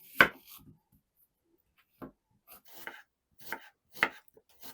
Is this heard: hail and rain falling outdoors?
no